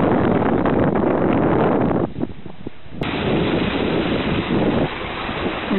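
Strong wind blows at sea past a remote, rocky mountain coast, roaring loudly and steadily into the microphone with a surf-like wash. It dips briefly midway before surging back.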